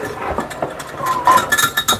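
A utensil clinks and scrapes against a bowl while whisking batter for a single serving of French toast with cinnamon, quick uneven metallic taps up close.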